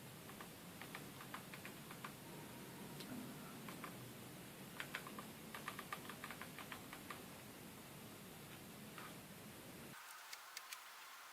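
Login credentials typed on a computer keyboard, faint scattered key clicks in irregular bursts over a steady background hiss, quiet and distant-sounding.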